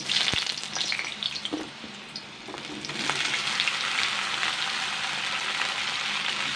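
Sliced pointed gourd hits hot refined oil in a pan, the frying bursting into a loud, continuous sizzle partway through after a few clatters and a quieter start, heard close with no voices.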